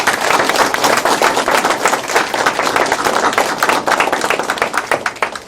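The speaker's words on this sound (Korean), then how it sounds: "큰 박수 한번 부탁드립니다" Close, loud audience clapping at a city mayor's town-hall meeting with residents, brisk and dense with individual hand claps distinct, continuing steadily before easing slightly at the end.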